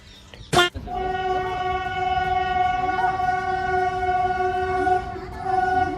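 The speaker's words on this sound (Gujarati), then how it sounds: "ફાઇનલી ભાઈ છે ને ટ્રેન આવી ગઈ છે" A train pulls into a station on a rural line toward Visavadar in the Gir region, its horn sounding loud and close as one long, steady blast after a brief sharp clatter, with rail rumble underneath.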